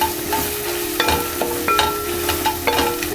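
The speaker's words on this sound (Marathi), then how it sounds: "गॅसची फ्लेम आपण बारीक ठेवलेली आहे कारण आपल्याला मसाले परतायचे आहेत." Homemade masala spices with turmeric sautéing on a low flame for mutton masala, a loud close sizzle punctuated by repeated spoon taps and scrapes against the pan, no talking.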